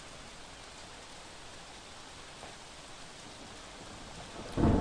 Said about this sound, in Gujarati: સતત અહીં સારો એવો વરસાદ પડી રહ્યો છે